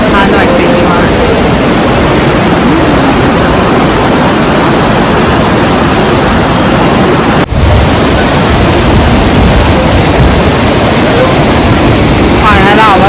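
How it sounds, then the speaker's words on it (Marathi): A mountain river in Ladakh rushes and babbles over rocks with a loud, steady roar that fills the whole stretch, broken only by a brief dip partway through. "पाण्याला आवाज बघा किती खळखळाट आहे"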